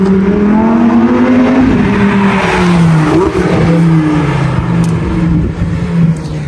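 A Lamborghini Huracán STO, a track-focused supercar, revs hard as it drives past, its raucous, gravelly engine note rising and shifting over a loud continuous roar with a brief swell midway.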